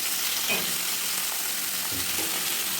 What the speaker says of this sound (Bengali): সেই সবজিগুলো আমি ওই কড়াইয়ের তেলে ছেড়ে দেবো।